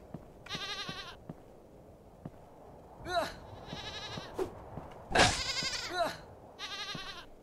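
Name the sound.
goat bleating in the video game Lillusion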